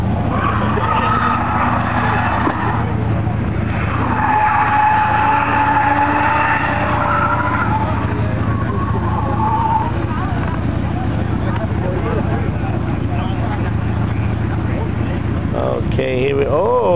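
A drifting car roars loudly with a revving, wavering engine tone and long tyre squeals, heard up close through a constant mechanical rumble, with voices talking over it.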